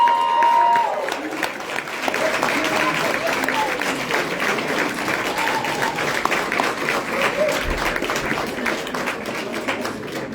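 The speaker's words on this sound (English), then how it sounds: "Please give a round of applause for our 2023 male ally, Reginald Bryant." An audience at an RVA Tech Awards ceremony gives steady applause, dense, continuous clapping that fills the room for about ten seconds at an even level.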